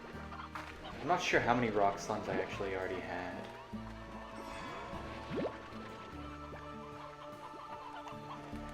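Chickens cluck in the Slime Rancher video game, a cluster of close, busy clucks early that thins into occasional calls over a soft musical bed while someone talks throughout.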